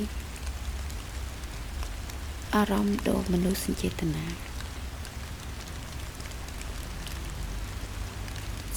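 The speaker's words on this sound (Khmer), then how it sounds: "ភ្លៀងធ្លាក់មិនឈប់" Steady rain pours down around a palm-leaf thatched hut beside a stream, a continuous even hiss that runs the whole time, with a brief spoken phrase partway through.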